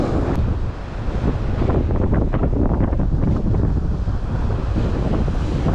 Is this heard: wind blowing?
yes